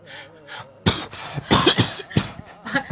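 Several harsh, close human coughs in quick succession, preceded by a brief wheezy breath, with no talking.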